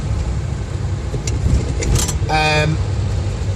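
A Bedford Bambi van engine running with a low, steady drone while someone talks over it, with a brief whine as the revs rise.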